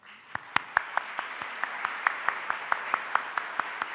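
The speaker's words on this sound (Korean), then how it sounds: "우리 박수로 우리 국외 선교부를 축복하도록 하겠습니다" A church congregation during a Korean worship service claps together in a steady, even rhythm, each beat crisp and distinct over a low murmur, to bless a returning overseas mission team.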